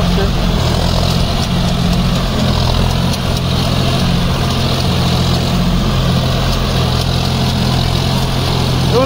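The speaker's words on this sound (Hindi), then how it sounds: "আর এখন গাড়িটি চলছে বন্ধুরা লোয়ে 2 নম্বরে চলছে, 1700 RPM গাড়ি চলছে।" A John Deere 5050D 4WD tractor running a 72-blade rotavator in low second gear at about 1700 RPM, a loud, steady diesel drone with a low rumble, held at a constant level throughout.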